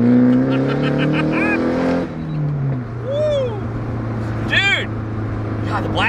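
A Nissan 180SX with an SR engine and custom exhaust pipes drones steadily while driving, a low, continuous rumble with rising and falling pitch as it revs, under the voices of people talking inside the car.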